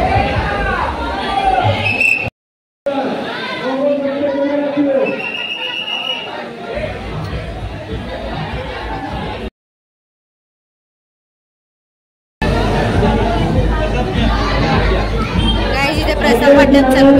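A dense crowd chatters and murmurs at the Ekvira Aai temple palanquin festival by the foothill shrine, a loud continuous babble of many voices that cuts out twice briefly.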